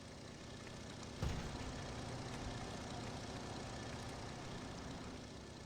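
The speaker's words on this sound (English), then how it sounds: "It sounds like a tractor going." A steady low tractor engine drone from Farming Simulator 25 runs throughout, with a brief bump in loudness early on and no talking.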